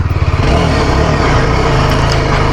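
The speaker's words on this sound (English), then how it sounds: "we are riding the Scrambler, and this is the exhaust note." A Yezdi Scrambler motorcycle exhaust rumbles loudly and steadily up close while riding, a deep throbbing engine note holding under constant throttle.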